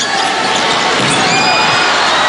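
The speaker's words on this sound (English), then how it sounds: "Capacity crowd here at the arena enjoying the action" A capacity crowd fills a volleyball arena during a UAAP championship match, sustained loud cheering and roaring at close range, steady and dense with no pauses.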